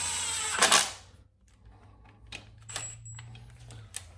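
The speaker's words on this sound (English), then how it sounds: "Now I am going to use my impact just to run them in snug." An impact wrench snugs bolts into a 2014-or-later Harley-Davidson stator cover: one loud, short rattling burst near the start, then quieter clicks and taps of handling the tool and parts.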